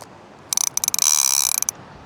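Drag on a Penn Torque 40N electric fishing reel clicking in a quick, loud ratcheting burst lasting about a second, close up with no voices.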